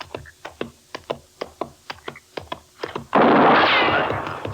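A steady run of about fifteen gunshots in an old-time radio drama, evenly spaced and close, then a loud burst of sustained gunfire noise.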